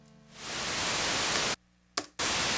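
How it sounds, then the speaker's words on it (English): Steady hissing white noise from the Nina synthesizer's noise oscillator swells in, holds loudly, cuts out abruptly, bursts briefly, then returns, with no voices. "you can see we just have the white noise"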